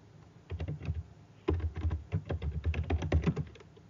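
Typing on a computer keyboard, a run of quick, steady key clicks that pause briefly and then resume, sounding close and fairly loud with no voices over them.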